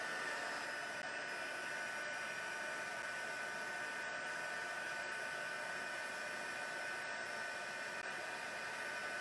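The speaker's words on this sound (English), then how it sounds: "turn your volume down if it's too loud. And I do use it on my highest heat setting. And this is the heat tool from" A Stampin' Up! heat embossing tool on its highest heat setting blows hot air over a Christmas card, a loud, steady whooshing roar that holds unbroken throughout, with no talking.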